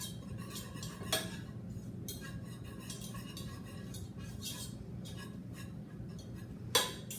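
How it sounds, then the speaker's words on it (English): A whisk stirring butter and flour in a pot for mac and cheese sauce: quiet, steady scraping and light metallic taps against the pot, with two sharper clinks, close and faint. "you're going to take the whisk and kind of mix it"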